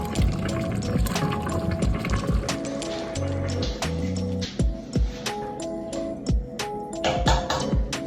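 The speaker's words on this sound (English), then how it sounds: "I think I need to pour more water because the rice basically absorb it." Water poured into a pot of rice for arroz caldo, a steady close splashing and trickling stream with bubbling and occasional clinks, heard alone without talk.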